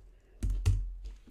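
A few keystrokes on a computer keyboard, two distinct close taps followed by a lighter click, quiet and isolated without speech.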